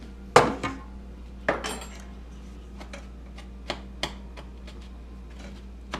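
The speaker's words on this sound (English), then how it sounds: "I just crushed it with my spoon" A metal spoon presses and taps cheesecake crust crumbs in a springform pan, giving a few sharp clinks spaced apart over a quiet background, with louder knocks early and softer ticks later.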